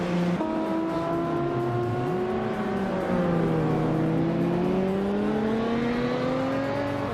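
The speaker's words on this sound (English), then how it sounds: "New for Life is driving an Alfa Romeo SZ, a rare and quirky choice" Alfa Romeo SZ engine in a racing video game, a loud continuous whine whose harmonics climb and fall through gear changes, with a steady hum of road noise underneath.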